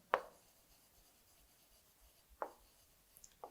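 Chalk or a marker strikes and scratches on a board in short separate strokes, two clear taps a few seconds apart followed by smaller scrapes in a quiet room.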